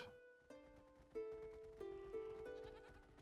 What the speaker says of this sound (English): Oh, we got some sheep now.